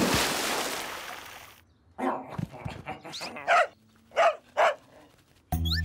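A cartoon dog barks several times in quick, loud, close yelps after a noisy burst of animated sound, with sharp pauses between barks.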